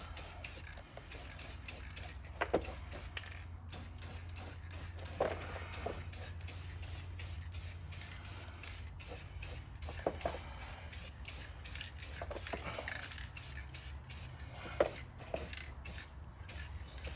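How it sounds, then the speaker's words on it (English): Spray paint hissing from an aerosol can onto a Nissan D21 truck in a garage, applied in a long run of short, rapid, deliberate bursts, close and steady. "Notice how I'm not just holding the button down and spraying like a madman."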